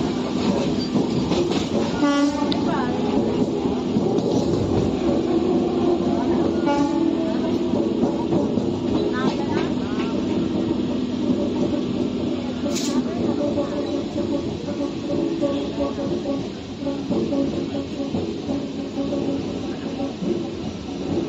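Train running on rail in Kolkata, approaching a station, a steady loud rumble with clickety-clack and wheel noise throughout, brief horn-like tone near the middle, faint voices underneath.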